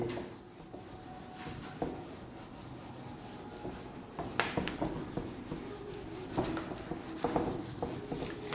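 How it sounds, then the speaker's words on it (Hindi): Writing being rubbed off a classroom board during a physics lesson, quiet scratchy rubbing strokes in irregular bursts, growing busier toward the end, close and soft with no talk. "चलिए इसको रब कर देते हैं।"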